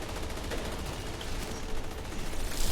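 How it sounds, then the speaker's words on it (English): Continuous rapid gunfire from players in a video game raid, a steady dense crackle of shots at moderate level with no pauses. "Bullet Kings, start shooting."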